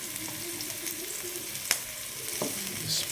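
Onions sautéing in a pan for a hot, spicy Chinese-style noodle dish hiss in a steady sizzle, with occasional spatula scrapes and taps, close and moderately loud, no voices.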